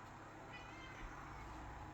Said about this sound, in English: And we have a cat.